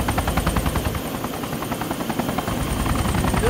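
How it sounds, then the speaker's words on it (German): A helicopter in the Arma 2 video game roars steadily at close range, its rotor chop pulsing rhythmically throughout with a constant engine whine, loud and unbroken with no voices. "Blöder Heli, du!"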